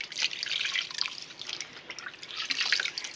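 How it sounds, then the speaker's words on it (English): Water pours and trickles steadily as a baby girl is rinsed off in her bath, a soft continuous splashing stream close by. "Let's rinse you off."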